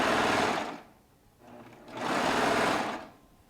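A Baby Lock Triumph sewing machine runs in two steady stitching bursts separated by a short pause, close and fairly loud, with no voices.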